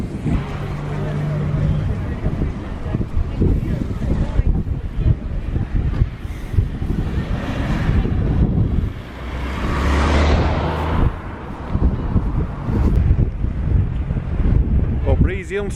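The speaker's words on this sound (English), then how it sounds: "Oh, breezy Hunstanton" Strong coastal wind buffets the microphone on the shore at Hunstanton, Norfolk, a continuous loud rumble with gusts throughout, while people talk beneath it.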